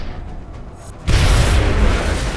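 In the video game XCOM: Enemy Within, a sudden loud explosion booms after a second of low rumbling, followed by a sustained roaring blast that fills the soundscape.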